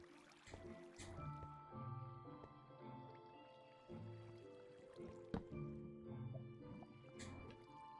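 Water flowing and dripping inside a Minecraft cave, faint irregular drips and soft liquid squishes spread across a quiet ambient background.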